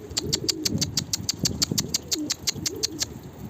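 Tumbler pigeons coo and flutter nearby in a steady rapid series of soft rhythmic calls, with wing flaps and light rustling beneath, no talking.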